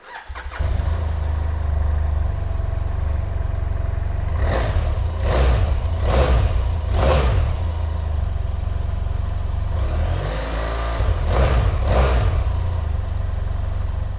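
A BMW F800GT motorcycle engine starts and idles loudly and steadily, with several quick revs in a row midway and a couple more near the end.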